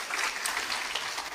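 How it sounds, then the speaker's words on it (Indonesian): Brief burst of audience applause during an Indonesian seminar talk, dense clapping from a crowd heard alone for just over a second. "Tepuk tangan Bapak Ibu sekalian."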